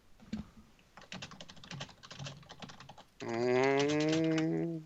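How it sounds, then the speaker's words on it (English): Rapid clattering keystrokes on a computer keyboard in uneven bursts for about three seconds, then a sustained tonal voice or sung note takes over to the end. "Typing."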